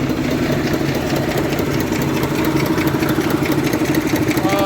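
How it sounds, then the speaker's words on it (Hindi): A Mercedes Actros truck's diesel engine idles steadily and close, a continuous low rumble with rhythmic knocking that holds through the whole clip. "मैं जा रहा हूँ गाड़ी स्टार्ट करने।"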